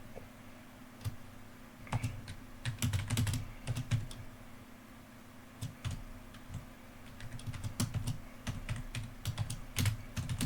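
A computer keyboard is typed on at close range while a printf statement is entered, producing uneven bursts of sharp key clicks with short pauses between them, over a low steady hum and with no talking.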